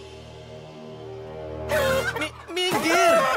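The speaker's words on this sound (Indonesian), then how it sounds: "kamu buat ayam-ayamnya marah." After a low droning hum, chickens burst into loud, agitated clucking and squawking, close by and rising in intensity.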